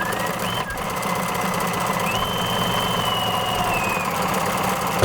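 A domestic sewing machine runs steadily through a slow decorative stitch, number 308, with a continuous mechanical hum and faint tonal whine that hold at an even, close level throughout.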